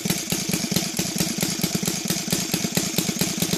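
A Laser 300 engine fitted with CH ignition and converted to run on gasoline idles steadily at about 1,000 RPM, a loud, close, even mechanical chugging with rapid regular firing pulses and no talk.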